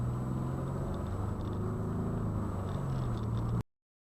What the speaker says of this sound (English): You may hear the traffic. Got the window open.